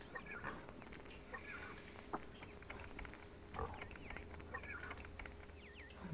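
Pigs oink at a farm in the strategy game Die Siedler 2, faint grunts scattered over a soft game ambience with light bird chirps.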